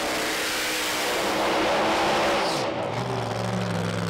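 A Pro Mod drag racing car makes its run at a British Drag Racing Championship round, its engine a loud, continuous roar that shifts and drops in pitch near the end as it pulls away.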